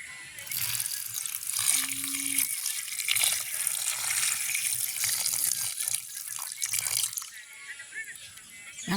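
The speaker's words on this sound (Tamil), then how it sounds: "நாங்கள் சுடுதண்ணியை விடுவோம்" Warm water pours steadily over dried fish to rinse off soil and grit, a continuous close splashing gush that runs through nearly the whole stretch.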